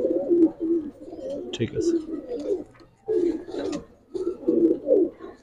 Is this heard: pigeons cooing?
yes